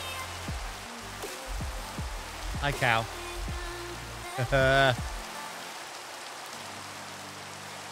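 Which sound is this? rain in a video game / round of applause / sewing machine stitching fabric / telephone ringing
rain in a video game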